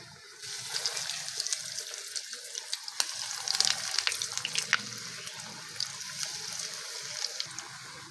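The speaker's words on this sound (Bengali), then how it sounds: "এবার উনুন জ্বালিয়ে কড়াইতে তেল বসিয়ে দেবো ভাজার জন্য" Vegetable chops made with toast biscuits fry in hot oil in a kadai on a stove, giving a steady crackling sizzle with bursts of bubbling and occasional stirring.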